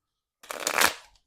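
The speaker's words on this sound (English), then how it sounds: "We'll give these another quick shuffle here." A deck of playing cards gets one quick riffle shuffle, a short close crisp burst of flicking cards after silence.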